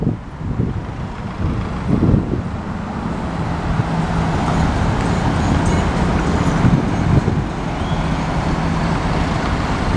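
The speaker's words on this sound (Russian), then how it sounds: "Машин, конечно, много тут в городе." Busy city street traffic in Kislovodsk with many cars passing, a loud continuous roar of engines and tyres close by, swelling and easing as vehicles go past.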